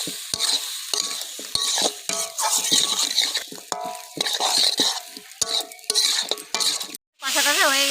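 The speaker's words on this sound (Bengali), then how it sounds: "এবার ভালো করে নাড়াচাড়া করে দিচ্ছি।" A spoon stirs egg cake curry in a frying pan, scraping and clinking against the metal over a soft sizzle in a close, busy pattern of strokes, with a short pause near the end.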